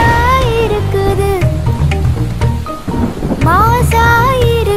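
Thunder and pouring rain effect in a Tamil children's nursery rhyme, rumbling and hissing steadily beneath a loud sung melody with instrumental backing throughout.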